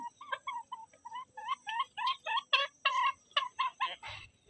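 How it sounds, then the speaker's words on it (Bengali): Village chickens cluck busily while being fed, a close, steady run of short rhythmic clucks that builds slightly in density, with no voices. "মুরগিগুলোকে খাবার দিলাম তাই আপনাদের সঙ্গে একটু শেয়ার করলাম দেখুন"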